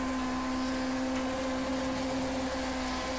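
Damaged race car engine in the Project Cars 2 racing game, a steady, strained droning hum with a constant low pitch that runs unbroken at moderate level, with no talking.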